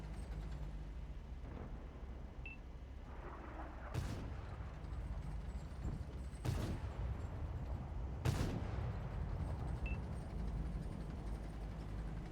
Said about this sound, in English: Drewski tracks the FE215B. Then his second shot gets a fire.